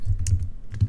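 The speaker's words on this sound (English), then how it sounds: "And I'm just going to type out" Keys on a computer keyboard are tapped in a quick, close run of soft clicks with low thumps, an uneven typing rhythm with no speech.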